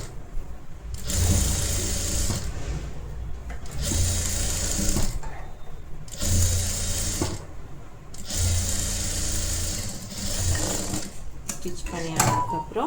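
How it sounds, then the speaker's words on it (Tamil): A sewing machine flat-stitches a blouse in several bursts of steady whirring, each a second or two long, separated by short pauses, close and moderately loud. "ஆனதுக்கப்புறம் ஃப்ளாட் ஸ்டிச் போடணும்."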